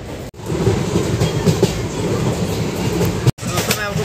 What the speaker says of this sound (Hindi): फाइनली ट्रेन तो मिल चुकी है और ट्रेन पूरी पूरी खाली है